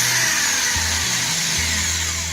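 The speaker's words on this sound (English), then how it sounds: "we're going to drill holes in some logs and get started on this" Power drill boring holes into oak logs for shiitake mushroom growing, a loud continuous whine with the motor pitch stepping down and up as the bit bites into the wood, close and alone.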